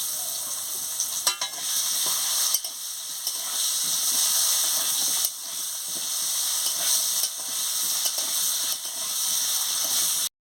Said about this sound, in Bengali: এবার একটু নুন দিয়ে আলুটাকে ভেজে নিচ্ছি।